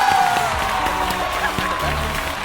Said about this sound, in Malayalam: അനൂപിനൊരു സ്പെഷ്യൽ കയ്യടി എല്ലാവരും